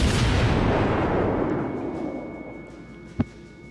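Naval gunfire in the World of Warships game: a heavy boom that rolls off and decays over a few seconds, followed by one short sharp crack, with no talk.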